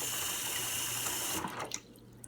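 Water flows into a freshly replaced garbage disposal in a home kitchen sink with a steady, close rushing stream, then cuts off abruptly partway through, leaving a few faint drips and a quiet room.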